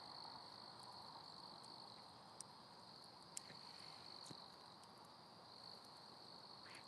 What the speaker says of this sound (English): Hear the crickets? Listen to the crickets.